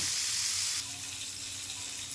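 Snakehead fish frying in oil in a home kitchen pan, a steady broadband sizzle that is loud at first and then settles into a softer, continuous crackle, with no voices.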